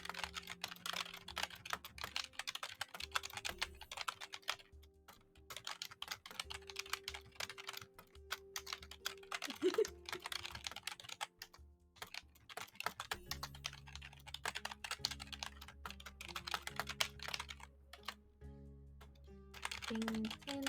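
Steady computer keyboard typing during a typing game, quick irregular clicks continuing throughout at moderate level, with low background music or tones underneath.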